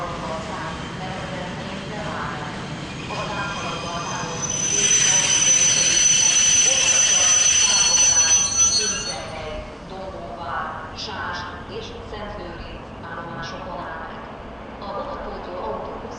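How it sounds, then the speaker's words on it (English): A Katitas passenger train at a Budapest station, passing with a steady rumbling roar and a sustained high whine that swells mid-clip, then fades to quieter rolling clatter. "Here's a Katitas train."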